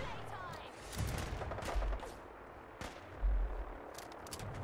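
Gunfire in the video game Fallout 4, several close sharp shots and heavier thumps spread across a few seconds over a busy game soundscape.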